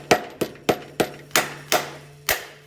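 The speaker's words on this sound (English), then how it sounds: "I use a rubber mallet to whack it." A rubber mallet whacks the cam caps on a Honda B20B cylinder head during a CR-V head gasket job: seven sharp, loud, close blows in a fairly even rhythm, each with a quick decay.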